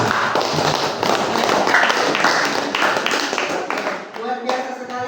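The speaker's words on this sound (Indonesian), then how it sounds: "Beri aplaus dulu untuk teman-teman." Students in a classroom give a round of applause, brisk clapping from several people that fades out after a few seconds as a voice speaks over it.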